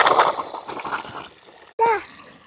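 Water gushing and splashing from a tap opened on farm irrigation pipes, a rushing outdoor flow that eases off, followed by a brief voice speaking near the end.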